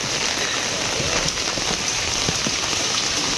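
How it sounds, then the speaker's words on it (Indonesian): Rain falls steadily on a remote, foggy village, a dense even patter of drops striking surfaces nearby, with scattered sharper drips and no voices. "Wow, suasana hujan di kampung teman-teman."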